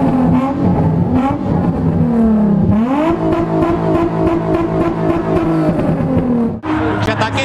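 A drift car on a track revs its engine loudly and close, the pitch dipping and climbing again as the car accelerates, with a brief cut near the end before the roar resumes.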